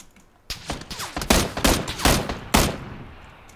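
Gunfire in PlayerUnknown's Battlegrounds, a loud close volley of about half a dozen sharp shots fired in quick irregular succession, each with a trailing echo, and no talking over it.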